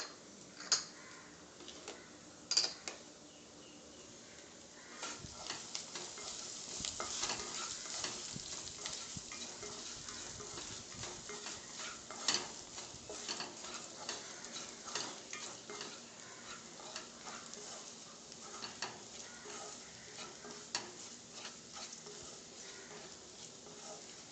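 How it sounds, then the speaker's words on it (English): Ginger frying in hot oil in a pan while being stirred, for dal makhani: a steady sizzle broken by scraping and clinking stirs, close and moderately loud, with no voices. "Then I am going to put in my ginger. There goes ginger."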